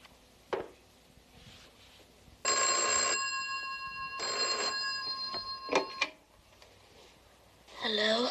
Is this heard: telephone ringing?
yes